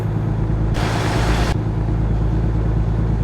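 A steady, droning truck engine hum in the video game American Truck Simulator at about 55 mph, with a heavy low rumble, joined briefly by a burst of broadband hiss partway through.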